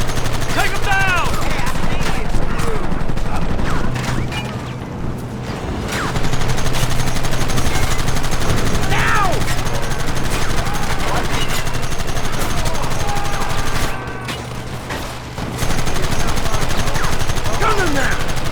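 Rapid bursts of gunfire in Red Dead Redemption crackle loudly and almost continuously, dipping briefly twice before the shooting resumes, with shouted voices now and then.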